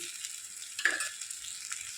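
Curry mixture frying and being stirred in a pan, with a steady close sizzle and a short scrape of the stirring spoon partway through.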